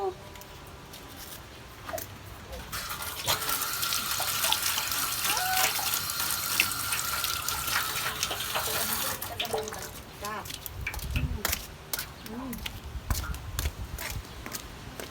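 Water gushes from a tap during hand washing, a steady hiss running for several seconds amid splashes, with voices talking around it before and after.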